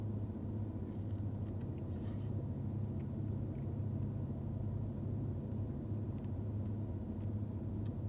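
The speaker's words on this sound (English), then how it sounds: "I have my heat on in my car." A car heater running inside a parked car's cabin, a steady low hum and airy blowing drone that stays even and constant throughout, with faint small sounds now and then.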